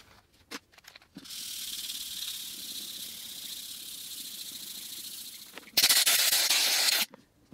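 Aerosol clear finish sprayed onto a wood burl, a steady close hiss lasting several seconds, then a shorter, louder burst of spray, with small handling clicks around it and no talking.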